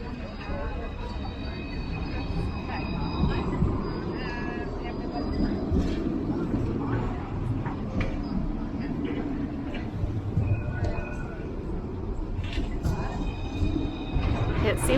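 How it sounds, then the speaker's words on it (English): A train rumbles past on a Dublin city street, a steady rolling roar with clanks and high squeals, heard from nearby. People talk over it. "A lot of these trains going by, lots of buses"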